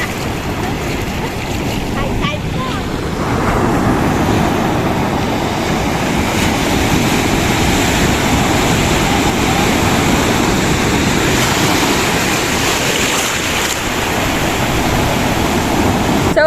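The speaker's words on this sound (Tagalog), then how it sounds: "nangangamba na ako sa alon kasi sobrang lakas and sobrang taas" Strong high-tide ocean waves crash onto a beach in Pangasinan, a loud, continuous roar of surf with wind noise that builds slightly after the opening seconds and stays heavy throughout.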